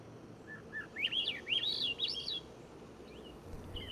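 Swainson's thrushes and song sparrows in a springtime dawn chorus: bright, whistled birdsong rises in a cluster of upward-spiraling phrases over a steady low background hum, then tapers off.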